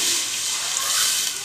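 Water pours into frying masala in a pan while a vegetable pakora curry cooks, a steady splashing hiss that runs unbroken for about a second and a half with no talking.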